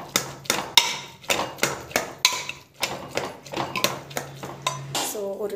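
A spoon stirs cabbage curry in a metal pot with a rapid series of sharp clinks and scrapes against the sides, close and fairly loud.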